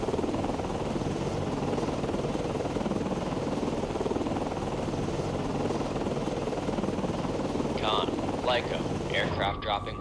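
A helicopter in the naval combat game Cold Waters gives off a steady, close rotor and engine drone that lasts throughout, with a short burst of chirpy voice-like sound near the end.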